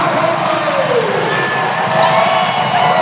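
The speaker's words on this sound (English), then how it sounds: "That gets the crowd going." A volleyball arena crowd at a Hawaii men's match roars and cheers after a powerful serve, a dense sustained wall of shouting voices that holds steady throughout at close, loud level.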